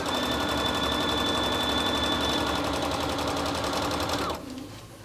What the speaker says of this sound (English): So you can just sew really fast, and I'm just managing it ahead a little bit.